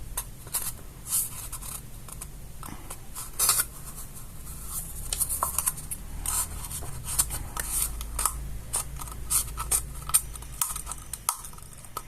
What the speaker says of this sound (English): The scissors not that sharp anymore.